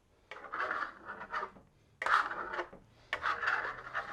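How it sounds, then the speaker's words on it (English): Three long scraping strokes of a trowel pressed hard across Venetian plaster, smoothing down ridges, a rough rasping sound with short pauses between passes. "we're going to start smoothing this down, pushing it down with a lot of pressure to the back of the trowel"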